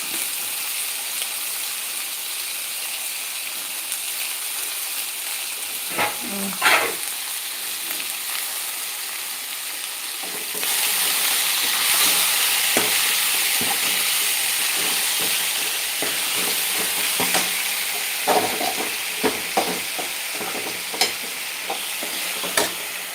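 Crushed ginger, garlic, onion and tomato frying in a pan for a curry: a steady hiss that swells into a louder sizzle partway through, with occasional stirring scrapes and no talking.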